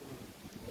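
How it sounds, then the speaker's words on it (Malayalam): Steady rushing storm wind buffets the microphone among coconut palms, a continuous low roar with gusty swells and no voices. "നല്ല കാറ്റ്"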